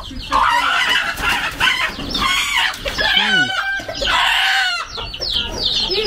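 Chickens cluck busily and a rooster calls out as the birds are moved into a basket, a close, agitated chorus of clucks and squawks with no talk over it.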